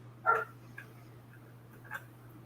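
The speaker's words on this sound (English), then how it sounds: "I was muting myself because of that dog" A dog gives one short sharp bark, then a couple of fainter yips, heard at a moderate distance over a steady low hum.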